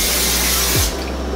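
Cooking spray hisses onto pancake pans in one steady, loud, close burst that cuts off near the end, leaving a lower background hum.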